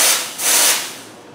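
Steam wand on a Distributor S200 espresso machine, a short loud hiss of steam in two bursts that fades out within about a second and a half.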